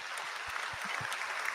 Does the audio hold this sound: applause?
yes